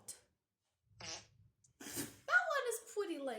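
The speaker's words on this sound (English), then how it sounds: "Next is a fart." A novelty fart sound effect plays, a short burst amid brief voiced sounds, followed by a rising, wavering tonal blast, fairly loud and close.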